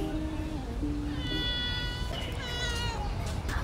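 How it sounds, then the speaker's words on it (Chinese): A cat meows outdoors on a road, giving two or three drawn-out, rising cries over steady outdoor background noise. "哎，被一只猫咪嚣张的拦路"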